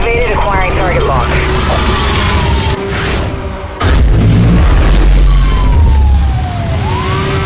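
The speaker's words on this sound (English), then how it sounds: "EMP activated, acquiring target lock." EMP weapon discharge in Need for Speed Hot Pursuit Remastered during a highway patrol chase, a loud booming hit after a brief dip, set against sirens, engine roar and radio-style voices.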